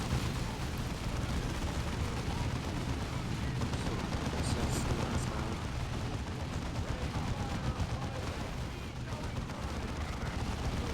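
Heavy bolter gunfire in Dawn of War 2, a dense, continuous roar of rapid shots and explosions filling the whole stretch at steady loudness, with battle noise layered throughout.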